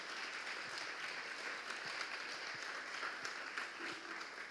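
Steady applause from an audience at a reading event, a dense continuous patter of clapping at moderate distance with no one speaking over it.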